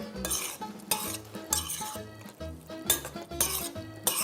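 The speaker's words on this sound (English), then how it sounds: "Then you're going to dump it right into the sauce. Mix it." Pasta being stirred and mixed into a pan of jarred sauce, with repeated rhythmic scraping and clinking of a utensil against the pot, steady and close with a faint sizzle underneath.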